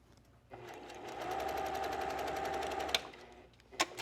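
A sewing machine stitches a seam with a steady, close mechanical whir that runs for about two and a half seconds, then stops, followed by a couple of small clicks.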